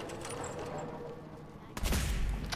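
A low rumble of distant battle noise gives way to a sudden loud gunshot burst with a booming tail, up close, in the video game Fallout 4.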